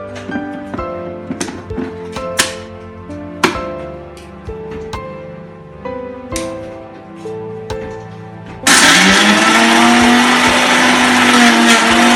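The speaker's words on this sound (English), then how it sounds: "As we put all our Oreo pieces into the blender, we have to blend the" After several clinks of hard Oreo cookie pieces being dropped into a blender jar, the motor switches on loudly and grinds steadily through the cookies, turning them to powder, until the end.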